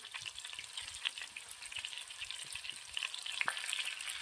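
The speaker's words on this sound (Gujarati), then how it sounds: "માખણના અંદર થોડું જીરું નાખું છું" Soft, steady sizzling of spices in hot fat, with faint crackles and a few small pops, continuous and close.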